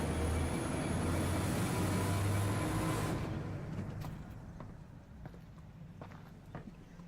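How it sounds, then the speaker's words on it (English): A train rumbles past in Half-Life: Alyx, a loud continuous roar that fades over several seconds into quieter rattling and faint clanks. "Train!"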